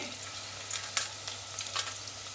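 Bay leaves dropped into hot oil with onions in a frying pan for chicken pulao, a soft steady sizzle with a few brief crackles and stirring clicks, quiet and close.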